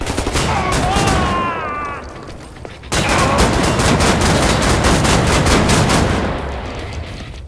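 Shotguns firing in a first-person shooter video game, rapid loud booming blasts in dense bursts with a short pause midway, close and heavy, mixed with chaotic in-game effects.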